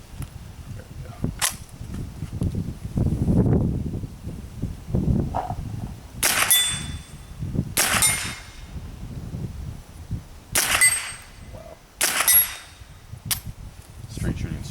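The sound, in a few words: Ruger 10/22 rifle shooting at steel plates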